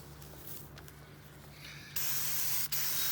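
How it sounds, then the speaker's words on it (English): A steady hiss of spraying water under a low motor hum, jumping louder and brighter partway through with a brief break near the end. "we'll get some pressure cleaning on"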